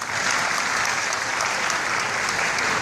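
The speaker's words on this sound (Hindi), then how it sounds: "ताली हो जाना चाहिए" Steady, dense audience applause fills the whole stretch at an even, loud level, many hands clapping together at a motivational business event for Altos Enterprises with no voices breaking through.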